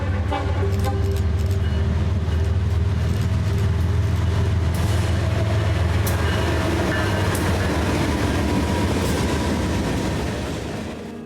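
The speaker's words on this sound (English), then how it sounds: "Our first train after returning to the depot was an empty grain train with a repainted H2 GEVO leading." An empty grain train led by a repainted H2 GEVO locomotive rolls past close by, with a steady loud rumble, droning engine tones and rail clatter, fading slightly at the end.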